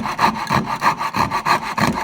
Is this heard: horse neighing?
no